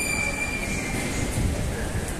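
A train at London Stansted airport station gives a steady, loud rumble with a thin, sustained wheel squeal running through it. The sound stays continuous, with no voices.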